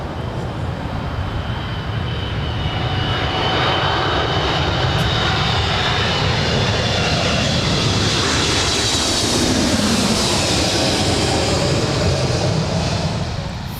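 An Emirates airliner passes overhead near Los Angeles International Airport, heard from outside an In-N-Out Burger off Sepulveda. Its loud, continuous jet engine roar stays steady and broadband for the whole stretch, with no talking.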